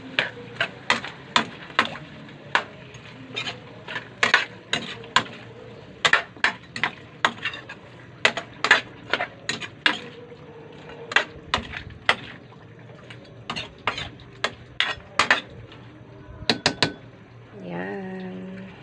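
Chicken with chayote cooked in a pot and stirred with a utensil, giving repeated sharp metallic clinks and scrapes against the pot at an uneven pace over a low background hum, with a brief rustle near the end and no speech.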